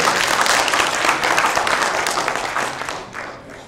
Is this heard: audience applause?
yes